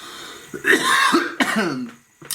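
A couple of close, harsh coughs with throaty clearing, two main bursts about a second apart and a short one at the end.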